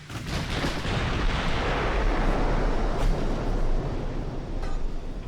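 Naval guns firing in an Ultimate Admiral Dreadnoughts warship battle, a dense, loud, continuous rumble of overlapping booms with no voices.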